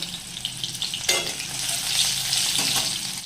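A steady close sizzle of chopped onions frying in hot oil, with a brief louder hiss and some light stirring sounds.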